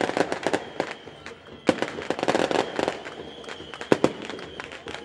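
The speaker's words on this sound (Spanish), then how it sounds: "El colorido tremendo, al son de los petardos." Firecrackers going off at a football stadium during a semifinal, a rapid irregular string of sharp loud bangs and crackles, dense bursts with brief pauses.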